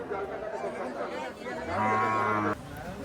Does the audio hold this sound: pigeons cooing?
no